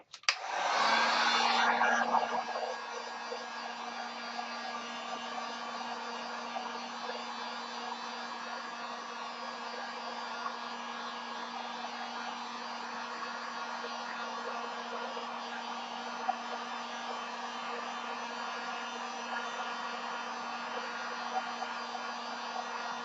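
A heat tool warming resin for a rose painting blows loudly up close, with a sharp start that settles into a steady whirring hum with a low tonal drone, running continuously for over twenty seconds.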